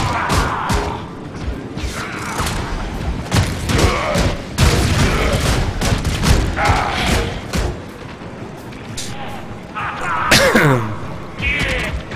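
Rapid assault rifle fire in the Warframe shooter game during a first-wave defense mission, with loud repeated bursts, thuds and crashes layered over dense combat noise throughout.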